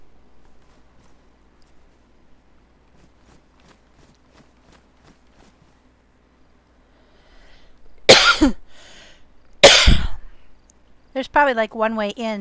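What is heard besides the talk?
person coughing from a cold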